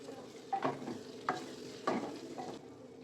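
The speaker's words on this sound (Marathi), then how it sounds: "झाकण काढू आपण आणि चांगलं एकदम परतून घेऊ" Potatoes being stir-fried in a pan after the lid comes off, three distinct spatula scrapes and tosses over a soft sizzle, fairly quiet and close, with nobody talking.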